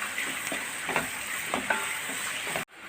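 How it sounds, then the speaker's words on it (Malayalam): Onions and curry leaves fry in a hot pan while a spoon stirs them, giving scraping strokes over a steady sizzle before the sound cuts off abruptly near the end. "ഇനി നമുക്ക് നന്നായി അത് വാടി വരുന്നിടം വരെ ഇളക്കി കൊടുക്കാം"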